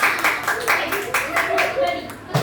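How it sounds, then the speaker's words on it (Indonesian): Students in a primary classroom clap for a group in quick, rhythmic bursts, loud and close, with voices mixed in among the applause. "Tepuk tangan. Ayo tepuk tangan."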